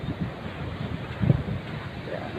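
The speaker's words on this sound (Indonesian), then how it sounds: "airnya di sana ombak keras" Surf breaking on a white-sand beach, heard as a low, rough wash mixed with wind buffeting the microphone, with one fuller surge of waves midway; fairly faint and distant, no voices.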